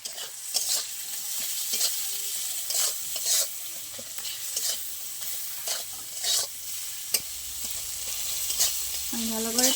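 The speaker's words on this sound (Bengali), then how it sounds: "মশলাটা একটু ভাজা হয়ে গেছে" Spices with chopped tomato, salt and turmeric fry in a pan for a Bengali khoira fish curry, giving a steady sizzle broken by repeated sharp scrapes and knocks of stirring, close and fairly loud, with no talk.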